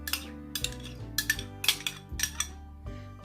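Yogurt spooned into a deep bowl for a chicken and celery salad, heard as a steady run of sharp spoon clinks and scrapes against the bowl, close and fairly quiet, repeating about every half second.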